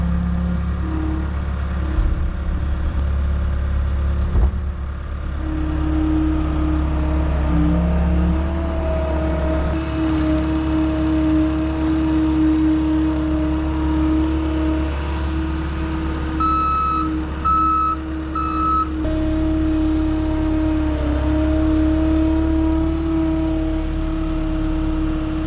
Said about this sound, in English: can we get the skid steer up there without dumping the new blind on the ground?